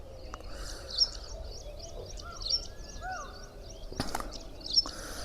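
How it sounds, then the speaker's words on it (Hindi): Birds chirp in the early morning countryside, short bright calls repeating every second or so over faint ambient background, fairly distant and soft. "ये चिड़ियों की जो चहचहाट होती है, आवाज़ होती है, उसे महसूस करना।"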